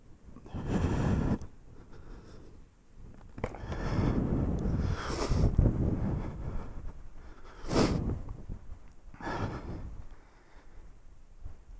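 Blustery wind gusts on Exmoor buffet the microphone in rough, low rumbling bursts that swell and fade irregularly, with a few sharper rushes between the gusts.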